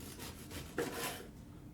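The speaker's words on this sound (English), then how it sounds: "So I'm going to go ahead and slice all of these up." A knife slices through a loaf of gluten-free orange and chocolate biscotti, producing a short, soft crunchy rasp that swells at mid-stroke and fades, close but quiet.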